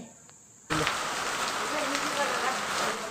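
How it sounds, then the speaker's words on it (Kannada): Heavy rain starts abruptly and hisses steadily, with a gusty wind rushing underneath. "ಅಷ್ಟು ಜೋರು ಗಾಳಿ ಮಳೆ ಬರ್ತಿದೆ"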